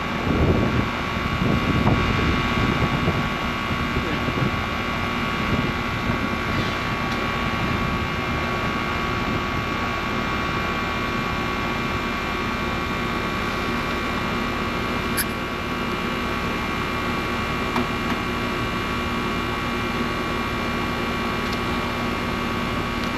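A rooftop air-conditioning condenser unit with a TXV runs continuously, producing a steady mechanical hum with a constant tonal whine and broadband fan noise, plus a faint tap now and then, no talk.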